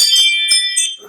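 A doorbell chimes with bright, sustained ringing tones that fade toward the end, standing alone and fairly loud.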